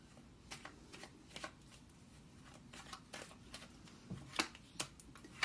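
Tarot cards being shuffled and drawn: a quiet run of soft papery flicks, riffles and sharper snaps at an irregular rhythm close by, with no talk.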